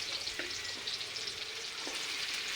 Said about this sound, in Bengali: এখন দেখো এই কেটে রাখা কাঁচা লঙ্কা, টমেটো, পেঁয়াজ, রসুন এগুলো আমি তেলের ওপর ছেড়ে দেব।